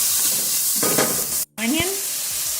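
Fried rice ingredients sizzle and hiss in a hot pan, seasoned with salt and pepper, with stirring scrapes, a brief sharp cut-off of sound midway and a lower clunk as the frying continues close by.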